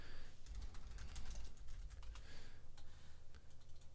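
Someone types on a computer keyboard in quick irregular bursts of light clicks and taps, fairly faint and close, with no speech.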